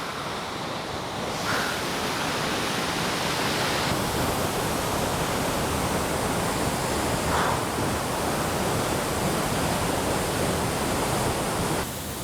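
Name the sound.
Curug Sawer waterfall, about 35 metres high, in heavy flow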